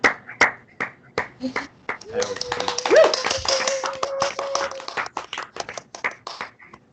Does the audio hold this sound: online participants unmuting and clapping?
yes